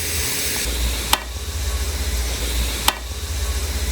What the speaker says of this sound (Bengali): এদিকে পেঁয়াজগুলো ভাজা হোক